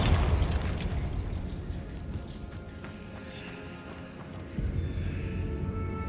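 A Bombarda blasting spell explodes in Hogwarts Legacy, a loud burst at the start that fades into rumbling game ambience, with a second softer thump later.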